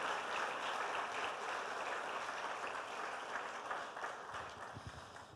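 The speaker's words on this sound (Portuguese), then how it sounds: "aplauda o Senhor" A church congregation applauds after a sermon, a dense, steady hiss of many hands clapping, soft and somewhat distant, continuing unbroken throughout.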